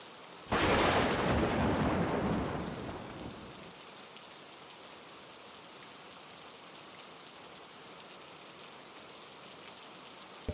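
A sudden heavy crack of thunder bursts in and rumbles away over about three seconds, leaving a steady soft hiss of rain falling at night.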